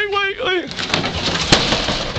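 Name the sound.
birds being handled and loaded, cooing and fluttering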